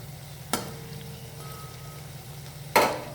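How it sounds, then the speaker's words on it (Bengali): Sojne flower fritters fry in a wok over a village fire, giving a low steady sizzle close by, broken by two sharp clattering stirs and a faint brief tone midway. "দেখো, এগুলো ফ্রাই হয়ে গেছে।"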